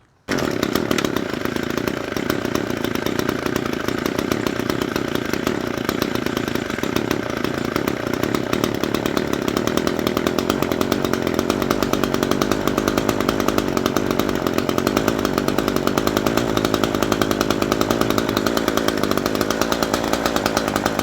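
An Echo SRM-225 string trimmer, previously a non-runner, runs steadily with a loud, continuous two-stroke engine drone that lasts the whole stretch without a break and has no talking over it.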